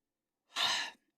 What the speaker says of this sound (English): Oh my gosh, big yawn.